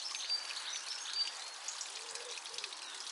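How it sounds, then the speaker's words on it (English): Waterfall in a park flowing steadily, a faint, continuous hiss of falling water with light splashy texture, no voices. "I don't know what's going on with this waterfall."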